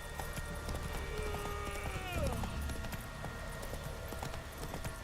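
Roach the horse in The Witcher 3 gallops with rhythmic hoof clip-clops under game music and ambience, with a rising whoosh midway; someone talks over it.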